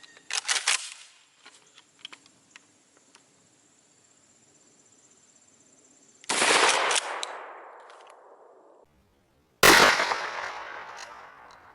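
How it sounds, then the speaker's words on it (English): A KSG 12 pump shotgun loaded with 00 buckshot and fitted with a muzzle brake fires two loud, sharp blasts several seconds apart at an outdoor range, each trailing off in a long echoing decay, with faint clicks beforehand. "now let's take a shot"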